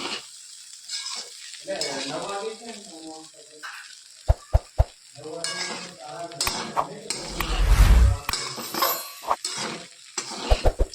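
Potato poha being tempered and stirred in an oily pan, with sizzling, scraping and a few sharp metallic clinks of a utensil on the pan, while people talk intermittently nearby.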